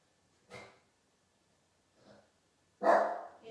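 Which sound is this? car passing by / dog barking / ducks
dog barking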